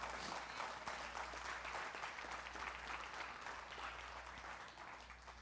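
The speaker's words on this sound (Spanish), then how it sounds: "dale un aplauso al Señor" A church congregation applauds the Lord with sustained, dense clapping from many hands that fills the room at a moderate distance and slowly tapers toward the end, with a low steady hum underneath.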